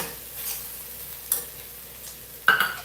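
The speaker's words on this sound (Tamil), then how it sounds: "இப்போ இந்த ரைஸை நல்லா மிக்ஸ் பண்ணிக்கலாம் ஏன்னா அடுப்பில் ஆனில் தான் இருக்குது" Tomato rice gets mixed in a pan on a lit stove, with a soft scraping stir over faint sizzling and a couple of sharper clinks of the spoon against the pan.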